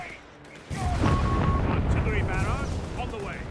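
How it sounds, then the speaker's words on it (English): An artillery barrage in the Company of Heroes 3 strategy game, a sudden heavy blast followed by a rumbling roll of explosions that lingers, with a commentator talking over it. "Quick artillery barrage here on the Vickers"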